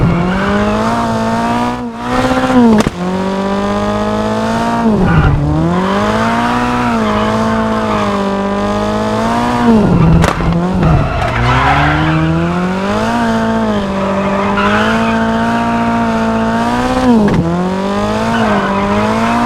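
A 70s front-wheel-drive rally car engine and exhaust in the WRC 10 video game, revving loud and close through rising and falling gear changes for a long continuous stretch, with tire squeal.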